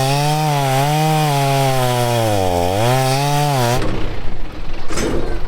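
A chainsaw cutting wood on a farm roars loud and near, its engine pitch rising and dipping as it works, then cuts out to quieter outdoor rustling and knocks.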